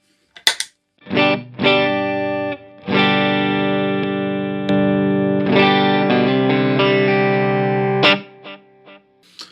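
An electric guitar plays sustained chords through a Harley Benton CS-5 compressor pedal with all controls at noon, smooth and even in level, with short plucked notes at the start and end.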